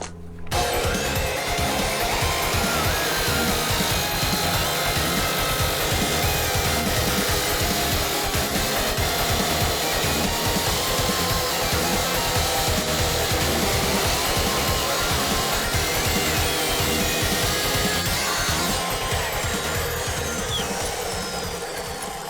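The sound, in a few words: cutting disc cutting through steel stock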